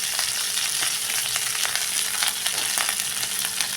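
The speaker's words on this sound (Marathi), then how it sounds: "त्यात मिनिटभर परतून झाल्यानंतर त्यात आता हा सुट्टा करून घेतलेला उरलेला भात टाकून घ्यायचा आहे" Leftover cooked rice frying in a hot tempering for lemon rice, giving a continuous close sizzle with faint stirring scrapes and no voices.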